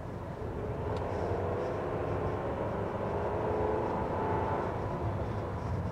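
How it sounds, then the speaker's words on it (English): The 2.5-liter turbocharged four-cylinder engine of a 2024 Chevy Traverse RS revs, a steady, fairly faint droning hum heard from inside the car, with no talk. "You can definitely tell from the sound that you have a four-cylinder engine in this car."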